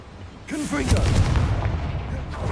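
A Confringo blasting spell explodes in the Hogwarts Legacy video game, a dull booming burst with a low rumble that swells and lingers, while a voice speaks over the start.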